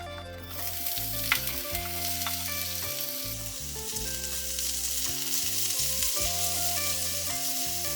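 Potatoes fry in olive oil in a hot pan, with a steady close sizzle and the occasional clatter of stirring, and no talking over it.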